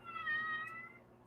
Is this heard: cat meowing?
yes